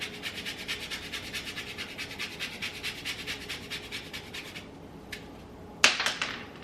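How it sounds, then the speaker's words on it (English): Fresh whole nutmeg is ground on a small grater for pie baking, giving a quiet, rapid rhythmic rasping of even strokes for about four seconds, then a pause and a brief scrape. "Going to grind some fresh nutmeg."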